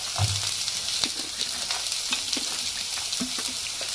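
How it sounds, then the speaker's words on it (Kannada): Chopped onions frying in a little oil in a pan, a close, continuous sizzle with light clicks and scrapes of stirring, with no talking. "ನಾವು ಉಳ್ಳಾಗಡ್ಡೆ ಎಲ್ಲ ಫ್ರೈ ಮಾಡ್ಕೊಂಡು"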